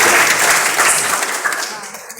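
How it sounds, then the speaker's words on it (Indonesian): Loud, dense audience applause at a university gathering, a sustained wash of clapping that slowly fades, close and full, with a voice faintly heard underneath. "Tepuk tangan untuk"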